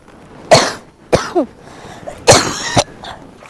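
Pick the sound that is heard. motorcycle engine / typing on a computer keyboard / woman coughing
woman coughing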